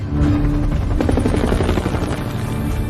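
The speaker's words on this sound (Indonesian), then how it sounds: "Penerbangan 2 helikopter untuk" A military helicopter flies in a Vietnam War action film, its dense, continuous rotor chop and engine roar loud and close throughout, with no voices.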